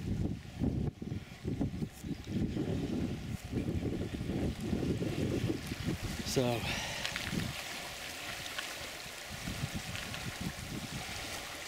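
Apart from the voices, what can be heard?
Fall River flowing under US 34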